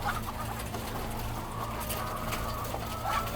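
Laying hens crowded into a large barn holding thousands of birds, a steady dense murmur of clucking and low calls with a constant mechanical hum underneath, moderately loud and unbroken throughout.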